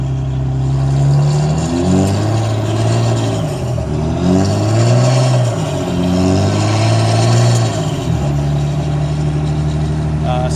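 A diesel vehicle, suspected of a cracked or leaking injector nozzle, drives up a hill with its engine droning loud and close, pitch rising and falling through several rev surges while a voice talks over it.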